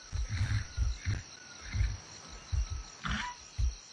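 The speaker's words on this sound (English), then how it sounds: "Lion?" Lion in the video game Atlas giving a run of short, deep grunting roars in an uneven rhythm against a faint high insect-like ambient hum.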